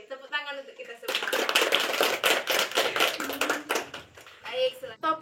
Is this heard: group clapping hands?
yes